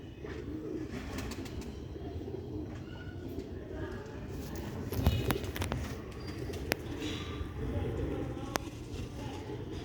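Sialkoti pigeons coo softly amid a steady low murmur, with scattered bird calls and a few sharp clicks and taps over a continuous busy background.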